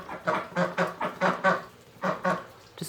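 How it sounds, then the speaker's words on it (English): Pet ducks near a garage quacking in a run of about ten loud, close honking calls with brief pauses between them, no speech. "my ducks have made it to the garage"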